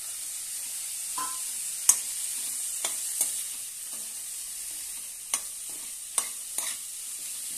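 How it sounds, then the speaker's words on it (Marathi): Hyacinth bean pods and potatoes sautéed in a pan for a dry Maharashtrian-style vegetable dish, giving a faint steady sizzle broken by occasional sharp scrapes and clinks of a spoon stirring, with no voices. "आता परतून घेऊया।"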